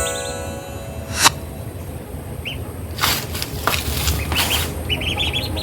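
Pet ducks squawk in a backyard, giving scattered harsh calls over a steady bed of ambient noise. A few short, bright bursts cut in between the calls.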